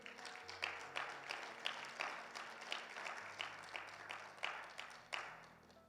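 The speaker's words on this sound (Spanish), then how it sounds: "Denle un fuerte aplauso al Señor, por favor." A church congregation applauds steadily and fairly faintly, many hands clapping in a dense, continuous patter with rhythmic swells.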